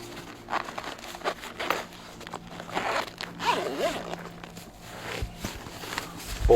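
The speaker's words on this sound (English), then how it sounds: "zip everything up" A zipper is drawn on the storage pouch of an MHPOWOS 40W foldable solar panel, giving several quick, close rasping pulls with light fabric rustle between them.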